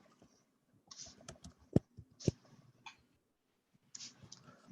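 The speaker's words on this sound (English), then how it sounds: "I'm typing in the chat box." Keys clack on a computer keyboard during an online council meeting, with scattered bursts of typing and a few sharper clicks, close and fairly quiet with no talk.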